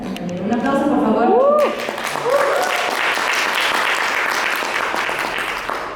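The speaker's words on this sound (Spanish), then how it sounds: "Un aplauso, por favor." Audience applause at a talk, starting after a voice speaks over it, then a broad steady clapping that carries on to the end.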